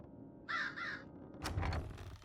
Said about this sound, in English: I don't remember the other crows being here.